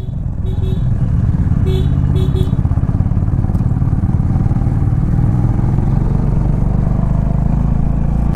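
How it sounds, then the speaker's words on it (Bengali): Motorcycles labor up a hill road near a dam, their engines droning loud and continuous with a rough, steady pulse, a few short high beeps early on and voices faintly underneath. "দারুণ লাগছে, বাইকগুলো উঠছে দেখো কতটা উপরে।"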